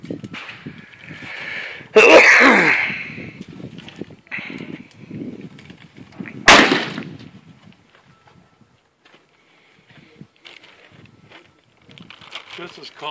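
Two loud, sharp gunshots crack out at a shooting range a few seconds apart, each ringing briefly before fading into quieter handling noises and low murmuring voices.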